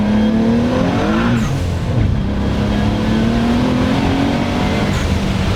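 A big-turbo Nissan 300ZX making about 750 wheel horsepower accelerates hard in second gear, its engine note loud and continuous as it climbs in pitch, with a brief dip from a shift or wheelspin partway through.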